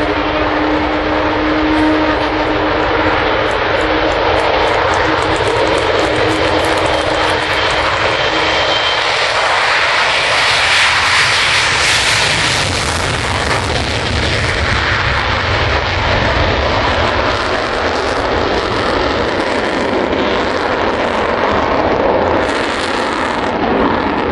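The Avro Vulcan jet bomber XH558 roars steadily overhead at the RAF Waddington Airshow 2011, swelling and shifting in pitch as it passes, with no voices over the continuous rumble.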